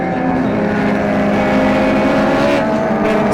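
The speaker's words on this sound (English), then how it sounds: "It was Mark Denton and his BMW 320" A BMW 320 race car running on track during an endurance series round, its engine a loud, steady, close drone held throughout with no voices.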